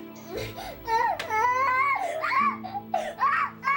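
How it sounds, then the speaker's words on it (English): Toddler boy screaming and crying at full volume in a loud, continuous, wailing outburst at home, with rising and falling shrieks and sobs. "screaming at the top of his lungs"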